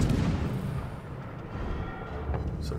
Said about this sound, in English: Some friendly fire there.